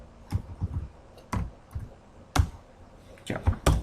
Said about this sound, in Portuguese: Deixa eu dar um Enter aqui, então.